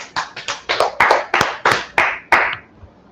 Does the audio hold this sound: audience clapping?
yes